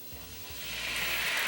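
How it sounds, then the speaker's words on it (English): Sorrel sauce hits a hot skillet, starting with a few soft clicks and swelling into a loud, continuous sizzle that grows over the short stretch. "Hear that sizzling?"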